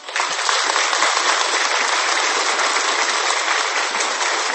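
Dense, steady applause from many hands rises at once and holds as a continuous wash of clapping for several seconds, with no voices over it.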